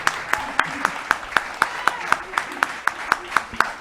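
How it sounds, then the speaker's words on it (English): Steady, evenly paced clapping close by, sharp claps landing several times a second in a regular rhythm. "another round of applause"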